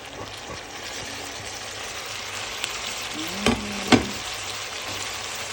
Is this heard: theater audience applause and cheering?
no